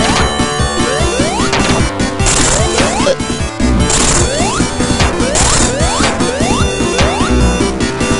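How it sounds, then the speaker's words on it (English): In the Lava Reef Zone of Sonic 3 & Knuckles, Robotnik's machine fires spike balls amid a loud, continuous clatter of metallic crashes, ratcheting mechanical clanks and repeated descending zaps under driving game music. "He's hitting himself with spike balls that he's shooting from some sort of machine"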